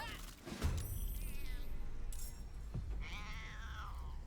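A cat thrown as a spell attack in the fantasy game Baldur's Gate 3 lets out a clear meow, with faint clinking game effects around it.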